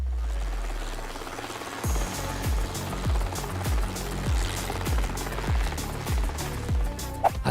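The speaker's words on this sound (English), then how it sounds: "Farming by helicopter." Rhythmic low thumping pulses repeat steadily from a farming helicopter's rotor blades over a continuous engine rumble; loud and close, with no voices.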